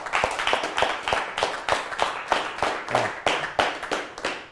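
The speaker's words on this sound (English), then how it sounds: "Everyone clap for my buddy Trev." Scattered audience clapping for a magician's helper, a loose round of distinct hand claps, a dozen or so sharp slaps in an uneven rhythm over a few seconds, fairly close.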